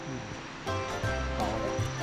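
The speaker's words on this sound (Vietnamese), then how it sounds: "Nghe tiếng thác chảy xuống nha anh nhỉ." Water rushes steadily down the seven-tier Nả Háng waterfall in a forest of pine and bamboo, a continuous broadband roar that stays fairly even, with faint tonal sounds over it.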